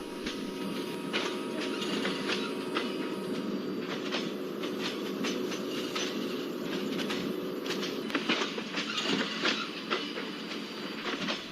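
The 16335 Nagercoil Express pulls away from Boisar station on the Western route, a continuous loud rolling rumble with repeated clickety-clack wheel beats over rail joints and occasional sharper metallic clatter, heard close from aboard.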